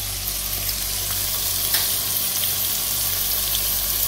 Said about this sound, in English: You want to sear the goat meat.